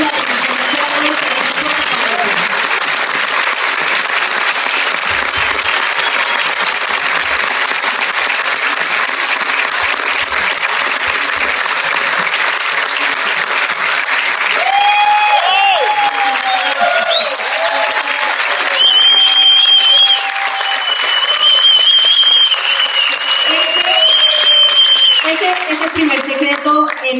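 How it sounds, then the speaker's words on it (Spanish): Audience applauding the women present at a business motivational event, broadband clapping steady and loud throughout, with a voice and some tonal sounds emerging over it toward the end. "quiero que en este momento nos tomemos el tiempo de aplaudir a cada una de las mujeres que está aquí presente"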